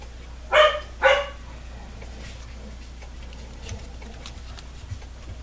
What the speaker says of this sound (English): My dogs are not happy with something.